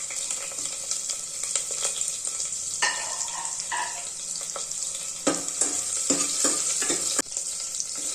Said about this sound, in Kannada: ಹಾಗೆ ಸ್ವಲ್ಪ ಆಯಿಲ್ನ ಹಾಕ್ಕೊಂಡು ಹೀಟ್ ಮಾಡ್ಕೊಳ್ಳೋಣ. 1/4 ಸ್ಪೂನಷ್ಟು ಜೀರಿಗೆನ ಹಾಕ್ಕೊತೀನಿ, ಹಾಗೆ ಮೆಣಸಿನ್ಕಾಯಿ